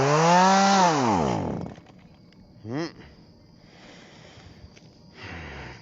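A gas chainsaw revs loudly with a rising, wavering whine, cuts out, gives a short second rev, then idles faintly with a final low rumble.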